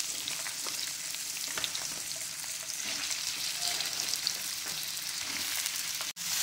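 Ivy gourd pieces frying in hot sesame oil and being stirred, a steady dense sizzle with occasional soft scrapes throughout, close and fairly loud, no voices.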